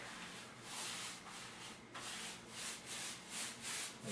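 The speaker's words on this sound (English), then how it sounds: "So we just go ahead and apply the paint." Paintbrush spreading paint along crown molding, a soft close-up bristly rubbing with repeated back-and-forth strokes in a steady rhythm and no voices.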